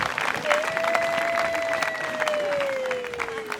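Audience applause fills the space steadily at moderate loudness, a dense wash of clapping with a sustained tonal whine running across it.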